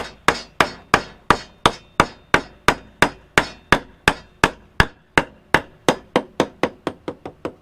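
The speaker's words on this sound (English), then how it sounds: "I better get a hammer." Steady series of about twenty sharp hammer strikes on deck construction lumber, close and loud, the blows evenly spaced and speeding up slightly toward the end, with no talking.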